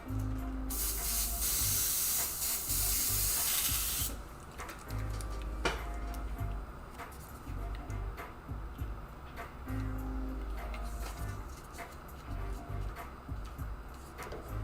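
An airbrush sprays paint onto a Joker-themed panel in near, broadband hissy bursts, loudest at the start and then continuing in shorter spurts with light ticking and handling noises.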